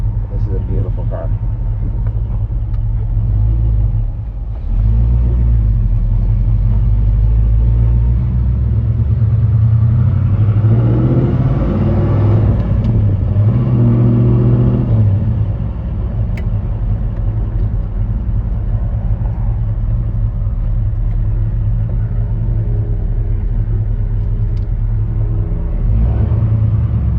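A new car's engine rumbles steadily at low pitch from inside the cabin while driving, with people talking over it throughout.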